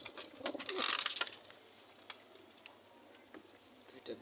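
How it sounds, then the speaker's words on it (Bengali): Pet pigeons coo softly at close range, a brief burst of low throaty calls early on, then quieter rustling and faint sounds in a calm room. "আমার দুইটা প্রিয় কবুতর"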